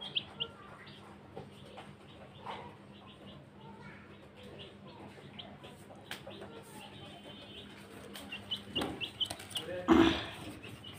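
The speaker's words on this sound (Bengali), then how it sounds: "এটা একটা মুরগির বাচ্চা।" A chicken chick with four legs chirps faintly in repeated short peeps beneath a voice talking, with some clucking and a louder rustle near the end.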